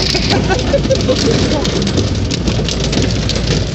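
Steady heavy rain pours during a thunderstorm at Le Mas d'Agenais, a loud, constant close hiss that fills the whole stretch, with a voice speaking briefly over it.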